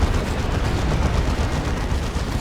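Lascannon fire and other weapons in a Dawn of War 2 3v3 battle, a loud, dense, continuous wall of blasts and gunfire with no break.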